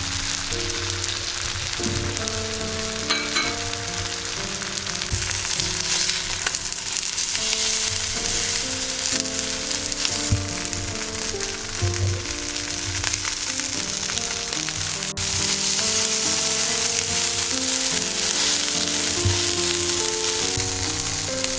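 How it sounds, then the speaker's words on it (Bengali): Chicken breasts frying to brown in a pan: a loud, dense, continuous sizzle and crackle with occasional spatters, steady for the whole stretch with no voices. "এটা আমরা ব্রাউন কালার করে ভেজে নিব।"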